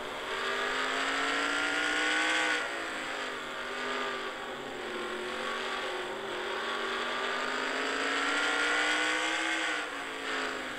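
Race cars lap the track as heard from the roof cam of the number 35 Cool Air Ford, a steady loud engine drone rising and falling in pitch through the gears, with wind rush and no talk.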